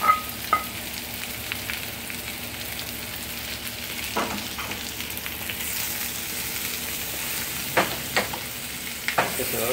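Strips of poblano pepper fry with onion in hot oil, a continuous moderate sizzle with occasional crackles and light stirring knocks.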